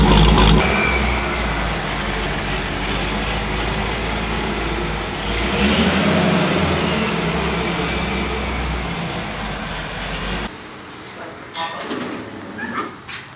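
Supercharged 2003 Chevrolet Corvette Z06 V8 idling with a loping, choppy rumble for about ten seconds, loud and close, then cutting away to quieter sounds; no one talks over it.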